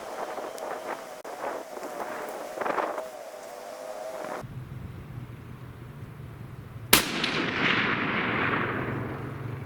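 Rifle shots fired at distant targets outdoors, a rifle with a tracer previously stuck in the barrel; one sharp loud report cuts through steady wind noise, followed by a rumbling decay.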